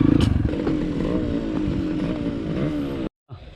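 Dirt bikes, including a Honda CRF 230, Yamaha YZ 250X, Honda CRF 150L and Yamaha DT 125, rumble and rev on a river crossing trail in Zamboanga City; steady loud engine drone with clatter, cutting out briefly near the end.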